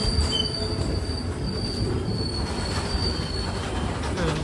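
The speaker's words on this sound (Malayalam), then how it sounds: "നമ്മളിതാ ജാഫ്ന റെയിൽവേ സ്റ്റേഷനിലേക്ക്" At Jaffna railway station in Sri Lanka, a train rolls past with a continuous heavy rumble and rattle of wheels, and a thin metallic squeal rises above it, loud and near throughout.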